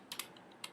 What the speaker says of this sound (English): Just type in Adobe Express.